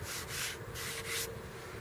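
A Kobalt 24V Max brushless cordless belt sander works wood in short bursts, its coarse abrasive rasp swelling and fading several times close by.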